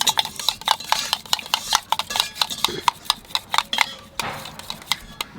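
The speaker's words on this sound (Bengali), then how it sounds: "টক দইটাকে একটু ফাটিয়ে নেব।" A spoon whisks sour yogurt (curd) in a bowl for Bengali katla kalia, making rapid, irregular clinking and tapping strokes close up.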